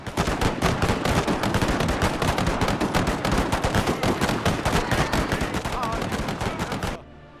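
A Gatling gun hammers out rapid, continuous fire in a Total War Anglo-Zulu War battle, loud and dense for about seven seconds before cutting off abruptly.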